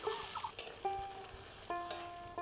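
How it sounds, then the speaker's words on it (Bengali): Drumstick leaf greens being stirred and mixed in a hot pan, with soft scraping strokes and light sizzling, plus a few sharp clinks of the spoon against the pan, close and quiet. "এবারে সবগুলোকে ভালো করে একসঙ্গে মিশিয়ে নিচ্ছি"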